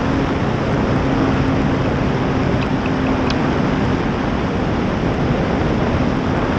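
An RC SBD Dauntless model plane's engine roars at full throttle in a climb, a steady, loud buzzing drone heavily mixed with wind rush on the microphone, no talking.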